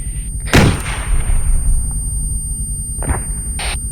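A disposable rocket launcher fires in Arma 3 with a sharp, loud blast and a long rumbling tail, followed by two shorter distant bursts.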